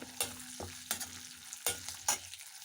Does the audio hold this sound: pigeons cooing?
no